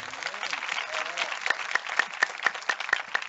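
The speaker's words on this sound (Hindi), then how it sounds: "जोरदार ताली बजाएं." A church congregation at a sermon in Pakistan breaks into applause, with a steady, rhythmic burst of hand claps that grows more evenly paced in the second half.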